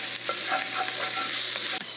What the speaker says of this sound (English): You want to saute those until they're translucent and lightly cooked